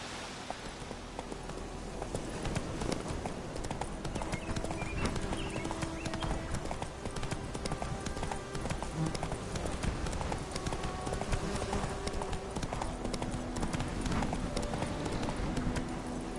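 Roach, a horse in a video game, gallops with dense, rapid, loud hoofbeats that keep an even pace for the whole stretch, with a little talk mixed in.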